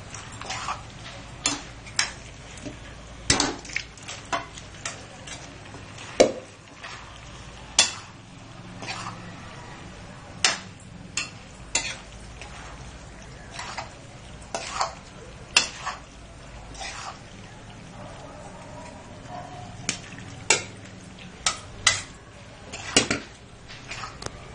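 A spoon stirs vegetables in tomato sauce in a pan, giving sharp irregular clinks and taps against the pan over a soft, steady background for a long stretch, with no talking.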